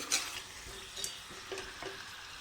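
Chicken pieces coated in turmeric, salt and ginger garlic paste sizzle softly in a pan under steady stirring, with a few scraping strokes of the spoon against the metal.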